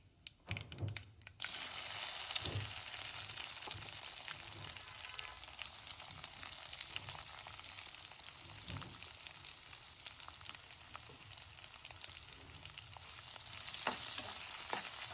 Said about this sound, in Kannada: ಸಾಸಿವೆ ಸಿಡಿದ ನಂತರ ಆವಾಗಲೇ ಕಟ್ ಮಾಡಿಟ್ಕೊಂಡಿದ್ದಂತಹ ಈರುಳ್ಳಿಯನ್ನು ಈ ಥರ ಹಾಕಿ